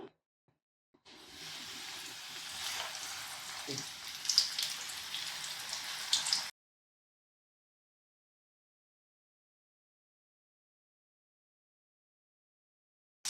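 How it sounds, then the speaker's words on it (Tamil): KFC-style chicken pieces crackle and hiss as they sizzle in hot oil, a steady, fairly close frying noise for several seconds that then cuts to silence. "இப்போ எண்ணெய் சூடாயிட்டு நம்ம ஒன்றா போட்டுடலாம்"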